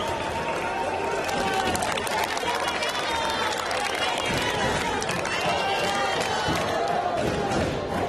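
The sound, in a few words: baseball crowd cheering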